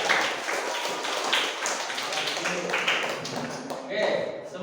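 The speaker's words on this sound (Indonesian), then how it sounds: "kasih tepuk tangan untuk kelompok 4" A classroom group claps for group 4, a steady patter of many hands lasting several seconds at moderate volume, with voices murmuring underneath.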